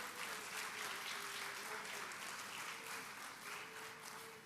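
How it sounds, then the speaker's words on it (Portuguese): A church congregation applauds together, a steady wash of clapping that holds at even strength throughout, with a faint sustained tone running underneath. "Você aplaude o nome de Jesus."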